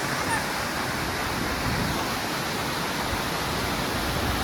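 Steady, full roar of a waterfall at a hill station in Indonesia, a broad continuous rush of water close by with no breaks.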